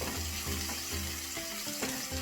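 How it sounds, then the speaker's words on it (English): Onions and a clove of garlic fry in a pan while rice is being prepared, giving a steady, close hiss and crackle of sizzling oil with faint watery bubbling underneath and no talking. "So just fry our onions."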